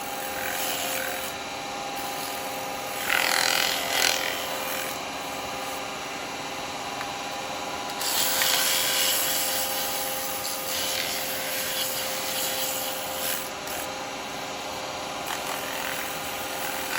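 Sandpaper rubbing a small turned wooden pot spinning on a woodturning lathe, a steady close whooshing hiss with louder surges as pressure and angle shift.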